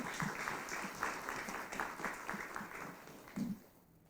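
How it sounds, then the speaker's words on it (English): An audience applauds the panel members at the close of a rooftop solar panel discussion, a brief, steady patter of clapping that thins out after a few seconds. "Can we please have a big round of applause for our panel members today?"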